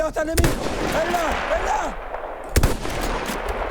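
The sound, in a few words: sniper gunfire in Battlefield 1 video game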